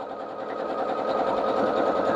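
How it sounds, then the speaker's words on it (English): A sewing machine runs steadily while stitching around the curved edge of a fabric dog bandana, a continuous close whirring hum with a fast mechanical rhythm and no talk. "sew around this curved edge right here."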